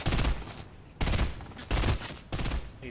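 Fortnite gunfire, four loud rapid bursts of automatic shots spaced about a second apart, each fading into a brief echoing tail.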